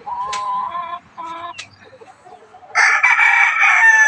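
Gamefowl rooster of the Kanawayon Hatch RRC line crowing close and loud, two short choppy calls followed by a longer full crow after a brief pause.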